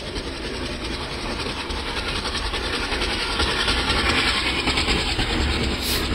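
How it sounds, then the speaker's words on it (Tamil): A WDM 3A diesel locomotive in the MSTS train simulator rolls along with a loud, broad rumble and a faint rhythmic clatter of wheels on rails. The sound is steady and close, without talk, and swells slightly near the end. "number train lead with WDM 3A engine diesel engine"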